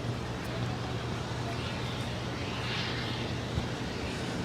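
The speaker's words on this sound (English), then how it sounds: "it looks like we do have the Lufthansa A340-600 heading here to the south side" A Lufthansa Airbus A340-600 arrives at LAX with a continuous broadband jet rumble. The four-engine airliner's hum is moderately close and steady throughout.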